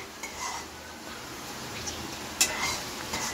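A spoon stirring biryani masala into rice in a pot, soft scraping and scattered light clinks against the metal, faint and continuous with a quiet kitchen hum.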